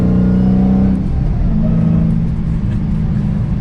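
A Dodge Challenger SRT Hellcat with a 6-speed manual pulls hard from third gear, its engine a loud, steady rumbling drone that holds a rising tone before easing slightly as the gear changes, heard alone without talk.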